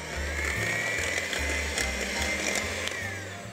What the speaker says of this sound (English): And we'll whisk this again until it gets a little bit firmer.